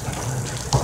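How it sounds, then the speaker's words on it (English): Heavy rain pours down during a hurricane on Merritt Island, Florida, heard as a loud, steady gushing wash of water with a slight surge near the end. "Look at all that water coming down."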